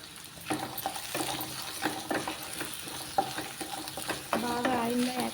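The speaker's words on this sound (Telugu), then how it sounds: "బాగా ఆయిల్లో వేగనివ్వాలండి చామగడ్డలు." Taro root pieces fry in hot oil with a steady close sizzle, broken by repeated scraping stirs of a spatula against the pan and a brighter burst of crackling near the end.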